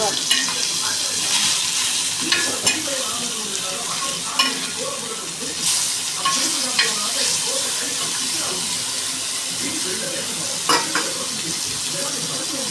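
Fish curry reducing in a pan, a steady close sizzle and bubbling with occasional clinks of a stirring utensil, no voices.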